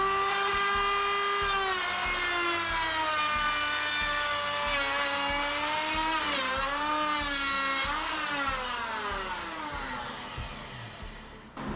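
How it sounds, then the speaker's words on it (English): A router fitted with a rabbeting bit and guide bearing cuts wood with a loud, steady high-pitched whine whose pitch dips and rises as it bites, under a rhythmic low throb, trailing off near the end. "I have the rabbeting bit set up in the router now with a guide bearing on it, so it should cut 3/8 of an inch deep"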